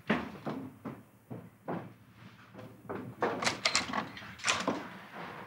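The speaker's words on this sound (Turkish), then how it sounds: "Ben bir kapıya bakayım o zaman çıkmadan." A door in a home opens after a knock, giving a series of short wooden clunks and rattles of handle and frame, fairly close, with some brighter bangs toward the end and no talk.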